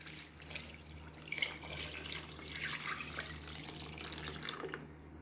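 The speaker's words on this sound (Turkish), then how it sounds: "Kemik suyunu döküyorum." Bone broth poured from a container into a pot while making a Turkish bulgur and fresh green bean stew, a steady close liquid stream and splash running throughout with no talking.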